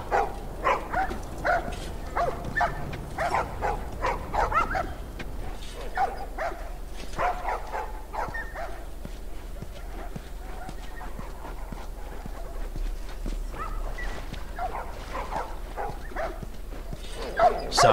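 A puppy barking in short repeated yips across the first few seconds, returning briefly near the end, with indistinct background voices and some clopping noise.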